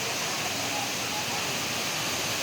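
A steady, broad rush of falling water from Singapore's indoor airport waterfall fills the space, constant and fairly loud, with no breaks.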